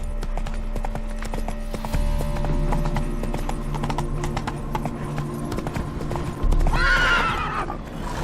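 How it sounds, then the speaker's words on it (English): In The Witcher 3: Wild Hunt, Hearts of Stone, the horse Roach clops along in a steady rhythm of close hoofbeats, then lets out a loud, shrill neigh near the end over a low hum. "Spooking my horse."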